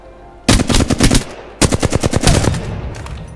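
Gunfire in Apex Legends: two loud, close bursts of rapid automatic shots, each lasting about a second, separated by a short gap and trailing into a fading tail, with no voices.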